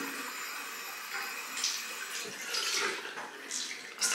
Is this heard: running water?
yes